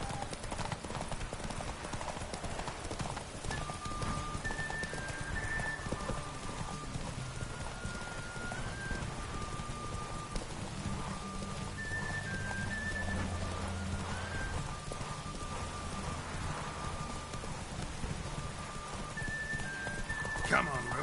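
Roach, a horse in The Witcher 3, gallops with steady, rapid hoofbeats throughout, over a soft rain-like patter and faint tonal background sounds.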